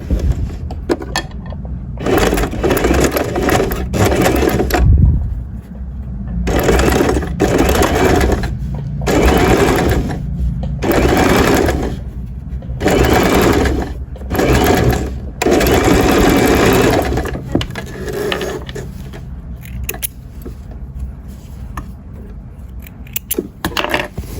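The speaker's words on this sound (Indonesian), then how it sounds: "Nanti furing tarikan ini kita jahit sesuai radarannya. Lalu dijahit." An electric sewing machine stitching the pocket lining of men's trousers, running in repeated loud bursts of rapid needle clatter separated by short pauses, the runs shortening and fading toward the end.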